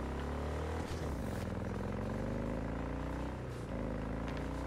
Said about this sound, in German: Mensch, habe ich den Klang von dem Motorrad vermisst.